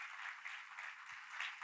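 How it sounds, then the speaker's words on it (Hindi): A church congregation applauds in thanks to God, a steady, fairly faint wash of many hands clapping together. "आइए प्रभु को धन्यवाद देने के लिए ताली बजाएं"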